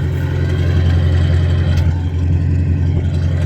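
An old farm service truck that has sat a while, running on stale gas with the choke on, idles loudly and close by in a steady, unbroken low rumble.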